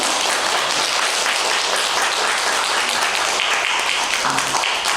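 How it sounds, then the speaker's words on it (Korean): A church congregation claps to welcome new members, a mother and two daughters, producing a dense, steady wash of applause that fills the room for several seconds without pause. "박수로 환영해 주시기 바랍니다"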